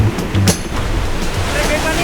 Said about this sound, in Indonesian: saya menyempatkan untuk mengunjungi salah satu pantai hidden gem yang ada di Bali nih